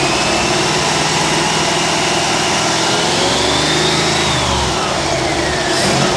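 A 1955 Chevy Nomad engine running at idle with a quiet exhaust, a steady, loud, close rumble throughout with slight shifts in pitch and a whining undertone.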